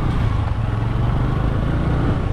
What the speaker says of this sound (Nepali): बाइक आयो अगाडिबाट